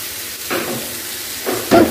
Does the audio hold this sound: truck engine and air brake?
no